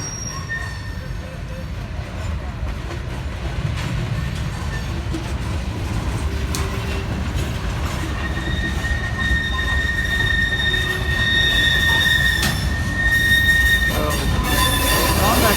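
A BNSF freight train shoves cars southbound around a connection track to the Kansas City Southern yard in Tupelo, Mississippi. The rolling rumble stays loud and close throughout, with high, drawn-out wheel squeals rising and fading.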